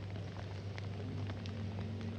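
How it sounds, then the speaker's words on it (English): Rain coming down at the Monza circuit during a Formula Regional European Championship race, a faint steady hiss of falling drops over a low constant hum. "the rain is coming down at Monza"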